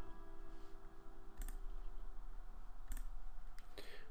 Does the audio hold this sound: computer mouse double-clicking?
yes